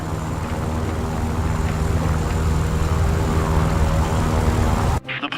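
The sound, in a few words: airplane engine accelerating for takeoff in War Thunder video game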